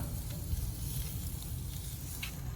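Lamb chops sizzle on a grill over direct coals, a steady close crackling hiss running without break, with a low rumbling bed beneath and a few brief sharper pops.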